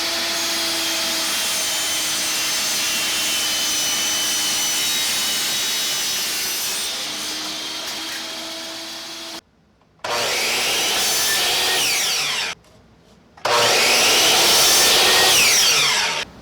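3/16-inch plywood being cut into 4-by-6-inch pieces with a power saw, a steady loud whining cut that runs about nine seconds, then two shorter bursts separated by brief pauses.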